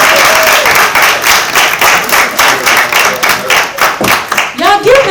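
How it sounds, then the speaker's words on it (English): Loud, sustained applause from a summit audience after a speech, dense clapping filling the room with a few cheers and a voice rising near the end. "Y'all give Donslow another round of applause."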